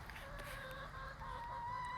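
Backyard chickens cluck softly in a small flock outdoors, several short clucks and murmurs at moderate distance with faint background ambience and no talk.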